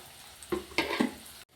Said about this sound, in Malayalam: ഇതിട്ട് നല്ലതുപോലെ ഇതൊന്ന് ആ പച്ചമണം മാറുന്ന വരെ ഒന്ന് ഇളക്കി കൊടുക്കാം